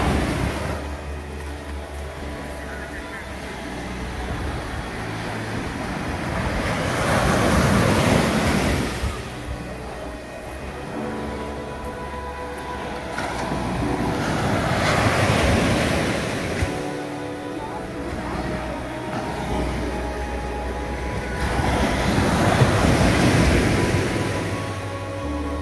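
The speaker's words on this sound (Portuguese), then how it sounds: "essa aqui é a Praia do Bonetinho." Ocean surf rolls onto Bonetinho beach near Ubatuba, Brazil, waves breaking in slow recurring surges every several seconds over a constant rushing background, with light wind noise.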